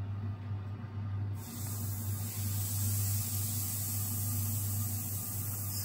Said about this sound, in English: Good, good fizzing action.